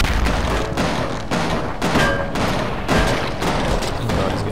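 Repeated heavy thumps from a thumper weapon in Cortex Command follow one another at an irregular pace, each shot a dull boom against steady loud battle noise.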